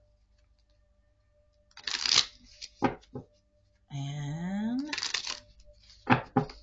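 An oracle card deck themed on love and romance is riffled and shuffled in two crisp bursts, close by and alone, with brief soft handling clicks between them.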